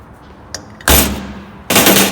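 A punch struck with a hammer to mark a Toyota V8 Land Cruiser's turbo compressor housing, back plate and turbine housing for alignment: two loud, sharp metallic strikes about a second apart, each ringing out briefly, with no talking.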